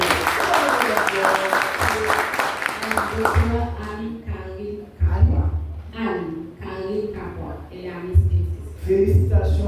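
Crowd applause at a gathering fills the opening few seconds with dense clapping, then gives way to voices and music-like tones with faint clapping lingering underneath.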